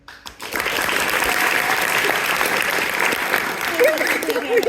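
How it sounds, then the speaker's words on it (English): Studio audience applause at a live evening talk show in Hollywood, Los Angeles, rising quickly after a brief start and holding as a steady, dense roar of clapping for several seconds, with faint voices mixed in near the end. "He tries to calm down the crowd, but the applause sign is still going."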